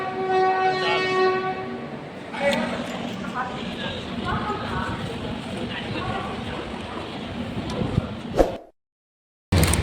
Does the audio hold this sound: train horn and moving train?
yes